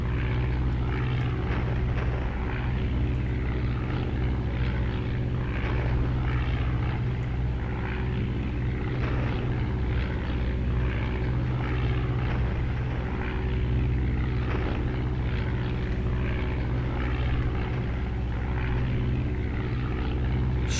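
Droning WWI fighter plane engines in the flight game Over the Front, set in Bloody April 1917, a steady, loud propeller hum holding constant throughout with no speech.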